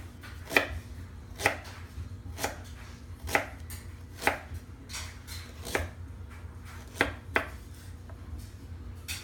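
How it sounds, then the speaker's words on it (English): A knife chops ginger into matchsticks on a cutting board, sharp evenly spaced knocks about once per second, close and clear over faint room hum. "So I've cut it into matchsticks,"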